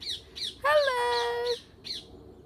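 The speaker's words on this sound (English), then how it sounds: "Are you too distracted by the birds?" Birds squawk and call in a park, with several short harsh cries followed by a longer, louder squawk with a falling tone, then a few more calls, fairly close and clear over quiet background.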